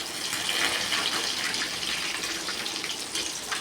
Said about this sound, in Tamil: ரசம் ஊற்றிக்கணும். மிளகு ரசம் தான் வச்சுருக்கேன்.